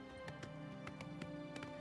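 A horse galloping in the video game Oblivion, a steady run of close, rhythmic hoof clip-clops heard alone at low volume for a couple of seconds.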